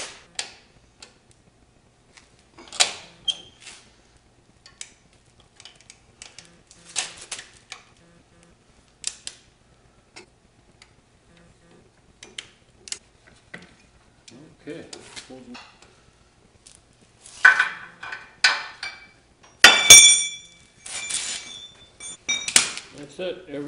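Wrench work on bolts of a car's front suspension struts during a frame-up build, sparse metallic clicks and ratcheting bursts separated by pauses, growing busier and louder near the end, with occasional talk.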